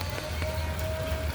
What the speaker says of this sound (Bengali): তো আজকেও এই সুন্দর বৃষ্টি হচ্ছে, তো বৃষ্টিতে বের হলাম।